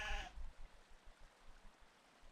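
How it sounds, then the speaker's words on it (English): A single short sheep bleat in a video game opens the sequence, clear and fairly loud, then gives way to near silence with only faint low rumbles. "It's just a sheep."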